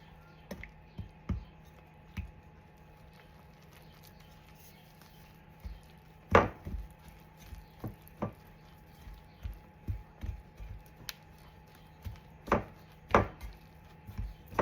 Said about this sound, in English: we blend all that with our fancy sourdough whisk.